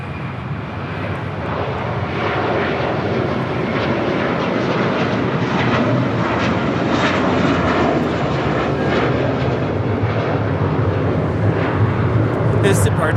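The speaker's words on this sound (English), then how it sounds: "His departure is American 1315 departing to Atlanta on an A321" American Airlines Airbus A321 departing Los Angeles International, a loud sustained jet roar building and holding steady as it climbs out.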